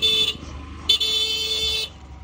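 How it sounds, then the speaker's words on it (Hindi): Vehicle horn on a banana farm honked at fighting dogs: two loud bright blasts, a short one then a longer sustained one after a brief gap, over faint outdoor background. "हॉर्न बजा के उनको भगा दिया"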